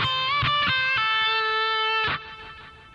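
A distorted electric guitar plays a short lick from a solo, with quick bent notes and a pull-off, then a long sustained note and a final picked note that rings out, loud and close with no voices.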